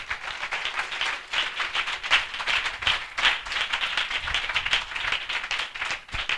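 A church assembly audience claps loudly and steadily in welcome, a dense, sustained wash of applause from many hands with no talking over it.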